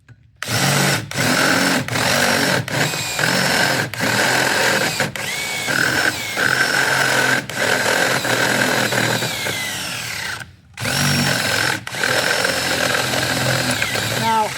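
A power drill bores the last hole through metal clamped with Vise Grips, a steady loud whine that runs for long stretches, cut by short pauses and a longer gap near the end before it starts again.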